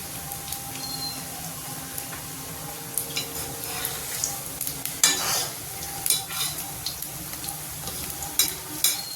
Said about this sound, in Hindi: तेल को ऐसे ऊपर से डाल देंगे जैसे ऊपर हमारी पकौड़ियाँ पक जाए